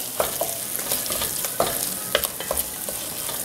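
Minced garlic and tomato paste fry and sizzle in a pan while being stirred briskly, a steady crackle broken by repeated scraping strokes of the utensil, close and fairly loud with no talking.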